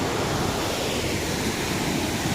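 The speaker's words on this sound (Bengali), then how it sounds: "জলের আওয়াজটা কিন্তু অনেক, আর গতিবেগটাও ভালো" A loud, fast-flowing waterfall in Tamil Nadu roars as a dense, continuous wash of rushing water, steady and close with no pauses.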